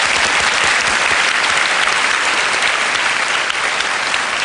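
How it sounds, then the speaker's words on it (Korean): A studio audience at a Korean lecture show gives a loud, dense, sustained round of applause to welcome a guest, a steady even roar of many hands with no break. "박수로 좀 환영을 해주시고요."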